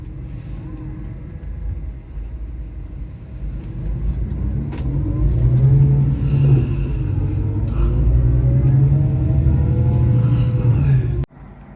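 A National Express coach bus drives on the road, heading north into Scotland from London Victoria. There is a steady, loud engine rumble with rising revs and constant road noise, heard from inside the coach for the whole stretch.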